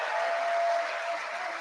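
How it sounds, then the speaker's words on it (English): Applause from an audience at the Sandhurst 2024 awards ceremony, honouring two majors, rises as a steady, even wash of clapping with no voices over it and a faint tone running under part of it. "Please give them a round of applause for all their hard work and dedication."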